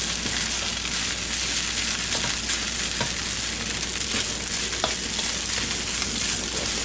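Chicken fried rice being stirred in a hot pan, a dense continuous sizzle and fry with scraping stir strokes throughout, close up and without talk.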